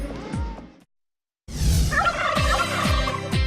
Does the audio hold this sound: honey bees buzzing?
no